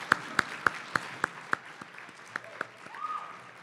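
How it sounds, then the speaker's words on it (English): Sparse claps for a group of young investigators at a talk form a slow, regular beat of single sharp hits that trails off into quieter noise near the end. "Another round of applause for these guys."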